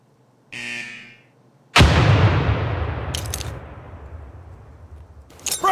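An M67 fragmentation grenade goes off in the video game America's Army 3, a single sharp loud blast with a long rumbling decay, preceded by a brief buzzing tone and followed by faint clicks.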